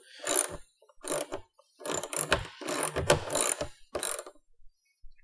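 A 10mm tool works a nut tight on a TGB Delivery Express scooter while a sign is fitted, producing close, repeated ratcheting clicks in short bursts with brief pauses between.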